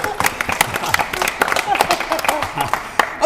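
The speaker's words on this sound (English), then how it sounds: "Give him a round of applause" An audience on an antiques quiz gameshow claps steadily through the whole stretch, the scattered hand-claps sitting under a host's voice talking over them.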